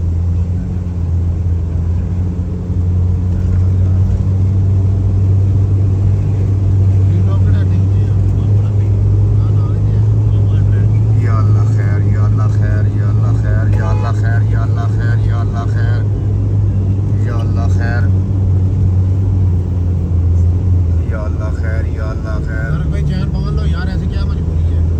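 Jeep engines labor hard up a snowy mountain track in the Green Top Valley near Kalam during heavy snowfall, a loud continuous low rumble and drone with revving rising underneath, while someone talks over it throughout.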